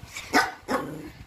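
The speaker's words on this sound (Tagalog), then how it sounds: "Ang ingay ng mga aso." Dogs at a house bark sharply twice in quick succession, close and loud, with no talk over them.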